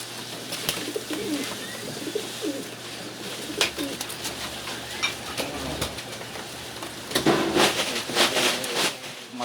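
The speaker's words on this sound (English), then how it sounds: "Downstairs is where most of the pigeons are." Many pigeons coo and murmur together indoors at a wild bird rescue on the Upper West Side of New York City, a steady layered chorus with occasional sharp clicks and wing flutters, the cooing swelling louder near the end.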